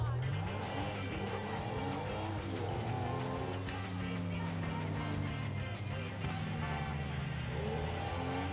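A car in Grand Theft Auto V speeds up, its engine note climbing and sweeping in pitch, loud and steady under a busy game mix, with no talk.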